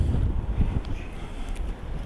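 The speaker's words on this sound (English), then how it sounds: "it's still windy" Strong outdoor wind buffets the microphone near Landcliffe, just north of Settle, a continuous low roaring rush with gusty swells throughout and no other clear sounds.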